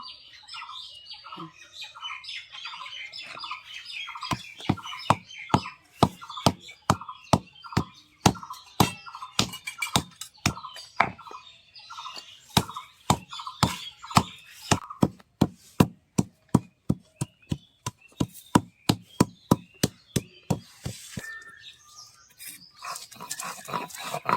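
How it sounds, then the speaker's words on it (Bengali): Turmeric is ground on a grinding stone, with a run of steady, evenly spaced scraping strokes that grows louder and faster before trailing off. Birds and other background noise are faintly audible. "এখন আমার ভাস্তি বাটছে, হলুদ বেটে নেবে প্রথমে"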